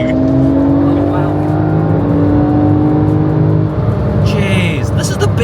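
A Porsche 911 Carrera in sport mode accelerates hard, its engine note climbing steadily and loud from inside the car, with a voice talking over it.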